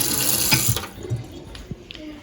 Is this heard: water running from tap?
yes